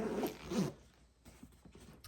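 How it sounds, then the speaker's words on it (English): A zipper closing on a small knitting needle bag, a fast close rasping pull followed by a few quieter ticking zipper movements, fairly faint indoors with no talk. "And it zips up nicely."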